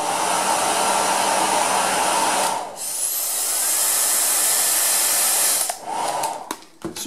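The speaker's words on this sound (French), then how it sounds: "Celui-là est vraiment dans les aigus et c'est vraiment pas un bruit de sèche-cheveux" A hair dryer with a small turbine runs at maximum power, giving a loud, steady rush of air topped by a high whine. The sound dips and swoops upward midway, then cuts off and sputters to a stop.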